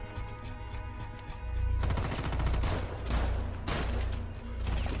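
Rapid bursts of gunfire in a tactical shooter game, a quieter stretch giving way to loud, dense volleys of shots that continue with brief pauses.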